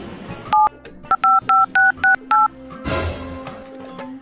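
A mobile phone dials a number, seven short, loud, evenly spaced keypad tones in quick succession, followed by a brief burst of noise and a low steady hum.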